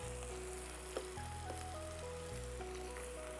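Onion, tomato and fish sautéing in a pan give a steady, close sizzle and crackle that runs unbroken throughout, with a stepped musical tone line playing over it.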